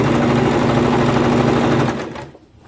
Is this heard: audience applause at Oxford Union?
no